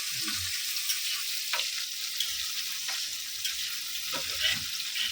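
Raisins fry in hot ghee with a continuous bright sizzle, broken by a few soft clicks of a utensil stirring in the pan.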